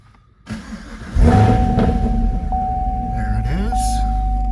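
A 2018 Chevrolet Camaro 2SS 1LE V8 cranks and fires up. A short starter whir comes first, then a loud burst as the engine catches and settles into a steady, rumbling idle. It is close by and heard inside the car.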